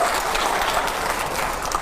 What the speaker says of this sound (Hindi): तालियां जरा जोरदार होनी चाहिए हर सवाल के पहले